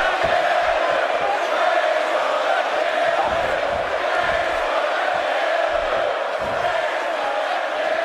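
Video game wrestling arena crowd in WWE 2K18, with a loud continuous roar of cheering and shouting that stays dense throughout.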